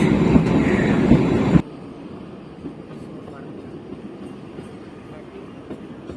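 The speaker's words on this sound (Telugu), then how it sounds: "ఇదే మన టాయ్ ట్రైన్." The Kalka–Shimla toy train runs past at a small railway station: a loud rumbling pass for the first moment cuts off abruptly, leaving a quieter low rumble and ambient noise afterward.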